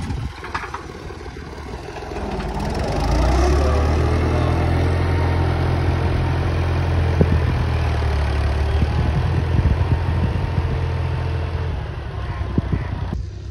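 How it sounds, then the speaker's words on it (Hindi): A tractor engine drones steadily while ploughing a wheat field, a loud, low rumble that swells after a few seconds and then holds as the machine drives along, with no speech over it. "अभी वापस ट्रैक्टर आ रहा है"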